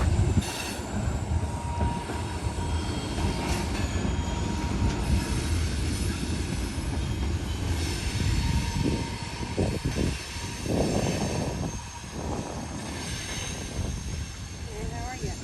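A long freight train rolls steadily past on the tracks nearby, a continuous rumble of rail cars with wheel squeal and clattering, loud and unbroken throughout.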